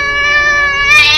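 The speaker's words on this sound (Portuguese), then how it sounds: "Barulho de gato?" A cartoon cat meows in one sustained, harmonic, slightly wavering cry lasting just over a second, loud and close with no talking over it.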